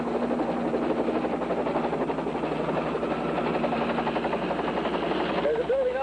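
A police helicopter flies overhead with a steady, loud rotor thump and engine drone that runs throughout, near and constant, with voices talking over it.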